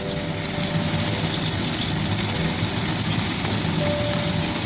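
Shrimp fry in mustard oil over high heat in a pan, giving a loud, continuous sizzle and crackle that stays dense and even from start to finish with no talking.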